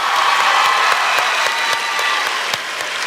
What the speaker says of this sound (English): Clap for them, dang it!